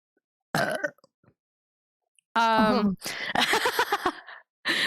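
A person's burp, a short close guttural eruption with voiced, croaking texture, set among other throat sounds and brief vocal noises on a casual stream.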